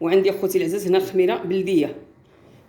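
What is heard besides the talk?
No everyday noise stands out behind the speech.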